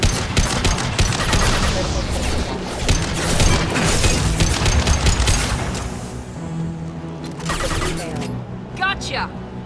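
Rapid gunfire and weapon bursts from the video game Mass Effect 2 fill the first half densely and loudly, then thin out to a few scattered shots, with a voice speaking over the din.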